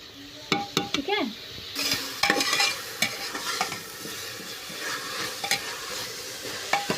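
Potatoes and bottle gourd fry in a pan for rustic khichdi while a spoon stirs them, soft sizzling under repeated scraping and clinking strokes, close and fairly quiet, with faint talk in the background.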